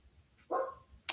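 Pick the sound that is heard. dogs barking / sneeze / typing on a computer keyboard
dogs barking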